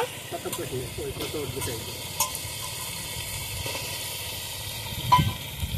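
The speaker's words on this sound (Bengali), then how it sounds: "এখন কেটে রাখা আলুগুলো দিয়ে দেব।" Cut potatoes added to a pan of frying tomato and meat, giving a continuous hiss and sizzle with occasional stirring clatter and one louder bump near the end.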